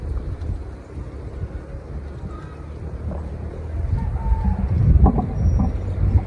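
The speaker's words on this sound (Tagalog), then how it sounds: "At ang lakas pa ng hangin." Gusty wind rumbles against the microphone, swelling louder toward the end, with faint distant background sounds.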